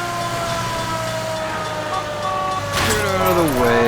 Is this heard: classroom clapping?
no